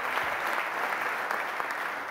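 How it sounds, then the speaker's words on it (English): Applause from the audience at an ESA ExoMars Trace Gas Orbiter and Schiaparelli Proton launch event, a steady dense wash of many hands clapping at even loudness throughout, with no talk over it. "yes, you may applaud him."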